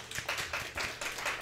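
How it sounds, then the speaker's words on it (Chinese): An audience at a community tech event claps briefly to thank the speakers, with a short burst of rhythmic, fairly quiet applause. "那我们再次掌声感谢。"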